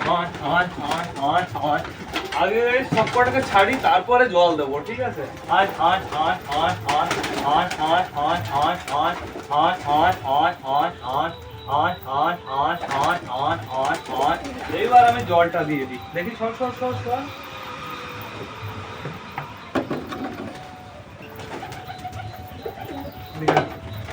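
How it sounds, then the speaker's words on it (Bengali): Pigeons cooing nearby after being let out to feed, with a dense run of repeated rolling coos and some chirps, fading to sparse calls and thin background noise later on. "বাদ বাকি যে কটা বড় পায়রা আছে সব কটাকে ছাড়বো ছেড়ে খেতে দিয়ে দেবো"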